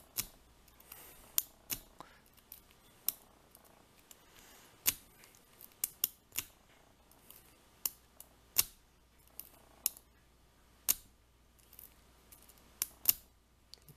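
Sharp metallic clicks and ticks come at irregular intervals, close and quiet, as a lock pick works a 4-pin lock, with faint pin and tension-tool sounds between the clicks.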